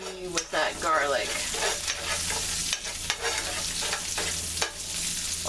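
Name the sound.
minced garlic sizzling in heating ghee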